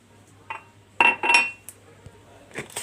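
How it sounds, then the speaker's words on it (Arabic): Raw and roasted sesame seeds mixed together in a bowl, with a few brief clinks and scrapes of the spoon against the bowl in short uneven bursts, close and clear. "هقلبهم مع بعض."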